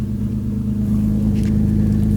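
A BMW E46 engine runs steadily at a low, rumbling idle, close by, after its first startup in two weeks, with a constant deep hum and no voices.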